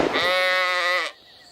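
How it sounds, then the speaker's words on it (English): A single loud, close sheep bleat, one wavering drawn-out call lasting about a second, followed by faint quiet. "That was a sheep."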